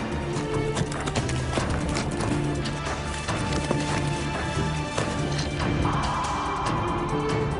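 Horses carrying riders through woodland, a dense, close clatter of many hooves thudding and clopping over the ground continuously, with a faint whinny and some scattered knocks in the mix.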